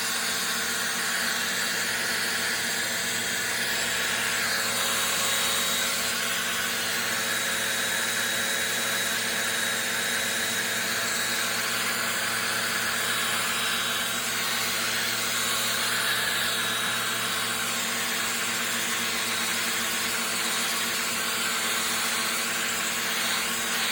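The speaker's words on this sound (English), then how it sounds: "So what I need to do is blow dry it for a little bit." A hair dryer blows steadily on a molded bowl, a constant airy whoosh at even volume for the whole stretch with no talk.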